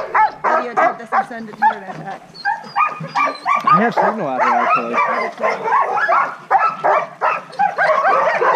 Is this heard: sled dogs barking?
yes